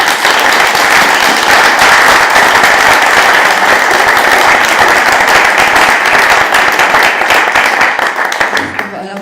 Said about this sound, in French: n'hésitez pas à les applaudir